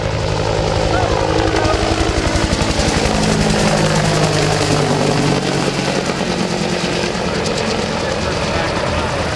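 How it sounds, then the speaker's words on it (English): AH-1W Cobra attack helicopter of the US Marine Corps departing at a Rotorfest military helicopter event, a loud steady rotor thump and turbine roar throughout, fading slightly toward the end. "The Cobra is the primary attack aircraft or attack helicopter of the United States Marine Corps."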